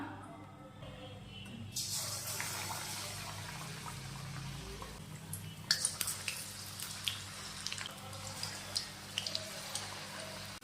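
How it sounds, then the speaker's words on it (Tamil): Jackfruit fritters dropped into hot oil in a home kitchen, a quiet steady sizzle that swells as pieces go in, with occasional sharp pops and crackles spattering over a low background hum. "இப்போ பலாப்பழத்தை இந்த மாதிரி தொட்டுட்டு எண்ணெயில் போட்டுக்கலாம்"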